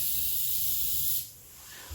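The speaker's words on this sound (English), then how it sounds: "Even though I'm spraying it in a certain direction, the fumes and a bit of the spray does come back." Expanding foam sprays from a can around a window frame in a loud, close, steady hiss that drops off abruptly partway, followed by quieter background noise.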